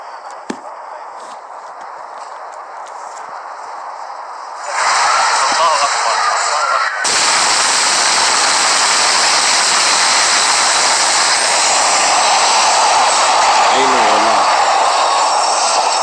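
Huge blast rolling through Beirut in 2020, caught outdoors during a bride's wedding photo shoot: a sudden loud broadband boom and roar arrives near the five-second mark and swells again at seven, then a sustained rumbling wash persists.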